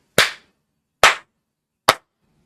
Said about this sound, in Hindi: तीन तालियां बजाना चाहता हूं मैं